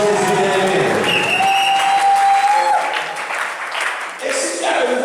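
A church congregation applauds and cheers loudly for Jesus, dense clapping filling the space throughout, with voices mixed into the crowd noise.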